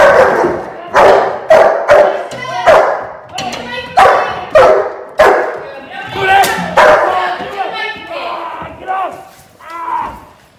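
Young dog, 13 months old, barking repeatedly during a three-man handler defence training attack on an intruder: loud, close bursts in an irregular rhythm, with thumps and people talking and shouting in between.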